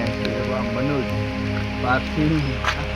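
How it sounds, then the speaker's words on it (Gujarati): Heavy rain falls steadily in a village, a continuous close hiss with people talking over it throughout. "ગામડામાં જુઓ ને તો વરસાદ એટલો વરસી રહ્યો છે"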